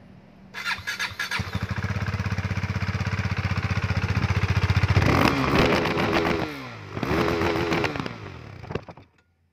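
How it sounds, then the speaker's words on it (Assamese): A KTM RC 390 BS4 motorcycle engine starts and revs hard, rising to a loud, raspy roar, then drops and revs again in a second burst before cutting off. "এতিয়া আপোনালোকক মানে বাইকখনৰ আৱাজটো শুনাইছোঁ ন"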